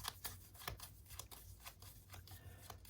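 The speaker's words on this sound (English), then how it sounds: "So we'll just shuffle it back in." Cards being shuffled back into a deck during a Bardsung tabletop board game, a series of quick papery riffles and taps repeating steadily over a low background hum, close and moderately quiet with no talk.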